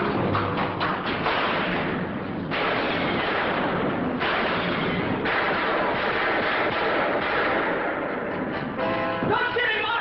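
Gunshots sound in the old Dragnet radio drama The Big Run, a loud run of booming blasts with a narrow, band-limited broadcast quality, repeating through the clip.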